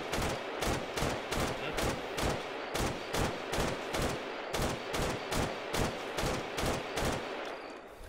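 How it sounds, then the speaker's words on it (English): Rapid, sustained gunfire from a firefight in the military video game ArmA, a steady stream of sharp, evenly spaced shots at moderate distance with no pauses across the stretch. "Who's firing?"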